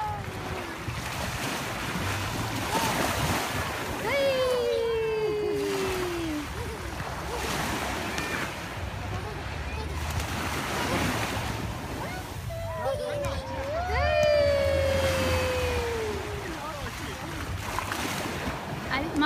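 Sea waves roll in and wash up on the shore in a continuous surf roar with gusty wind buffeting the microphone, while people's voices rise twice over the surging water.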